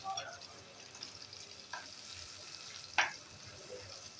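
Garlic and chilli being sautéed in a pan for rava dosa give a faint, steady sizzle, broken by a few soft stirring scrapes and a sharper clink near the end.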